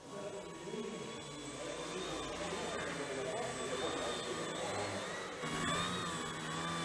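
A small indoor model airplane weighing about 150 grams flies inside a hall, its electric motor giving a steady, fairly loud buzzing whine with tonal lines throughout, while people talk over it.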